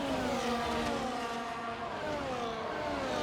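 Formula 1 car engine in the F1 24 racing game, screaming at high revs down a DRS straight at Imola, a steady loud whine with rising and falling harmonic tones that holds throughout.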